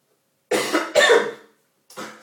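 Two harsh coughs close to the microphone, one right after the other, then a shorter, softer cough after a brief pause.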